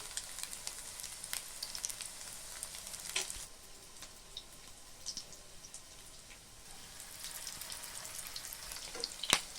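Egg cutlets fry in a pan with a steady, fairly quiet sizzle and crackle, with scattered sharp pops and spits throughout and no talking.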